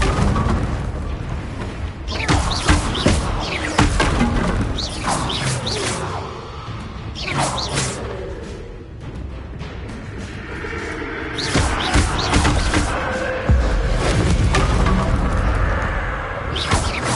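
Confringo and Bombarda spell blasts in Hogwarts Legacy on PS4 come as repeated booming impacts and whooshes. A spoken voice runs underneath the loud, dense, continuous stretch of explosions.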